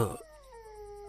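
A dog gives a strange, drawn-out whining howl that starts with a short rough burst and then holds a wavering tone, heard alone and fairly close.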